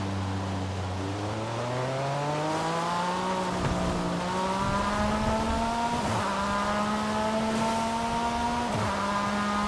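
A race car in Forza Horizon 5 with a bigger, more powerful engine than the RSR, revving loud and close through gear changes, the pitch climbing and briefly dipping at each shift, with a faint tire squeal.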